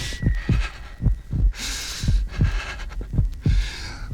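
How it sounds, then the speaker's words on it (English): A heartbeat sound effect for a ghost story thumps in a steady double-beat rhythm, deep and loud, roughly twice per second against a hissing background. "the heart beat on, but at length it ceased"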